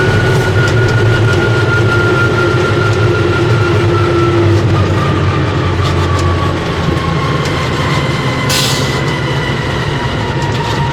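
A Russian 6x6 truck's engine runs steadily at 2400 rpm, a loud, continuous low droning rumble with a sustained tonal whine that holds throughout.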